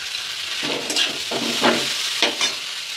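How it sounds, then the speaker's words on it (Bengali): Chow noodles with fried carrots stir-fried in a pan, a steady loud sizzle of oil broken by several scraping stirs of a spatula, close up with no talking. "তো চাউগুলো দিয়ে আমি একটু ফ্রাই করে নেব, বেশি ফ্রাই করতে হবে না, জাস্ট একটু নাড়িয়ে নেব।"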